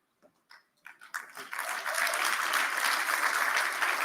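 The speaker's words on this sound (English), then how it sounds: "Can we give him another round of applause, please?" Audience applause at an education sector conference, starting as a few scattered claps that quickly swell into sustained, dense clapping from a large crowd in a hall, steady and fairly loud to the end.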